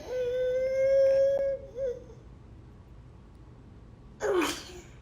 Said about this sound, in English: Do your fake sneeze.